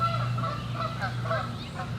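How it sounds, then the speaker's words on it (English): Canada geese honk overhead in a rhythmic series of calls, several birds flying past at a moderate distance over a steady low background hum, with no one talking. "Some Canadian geese flying over."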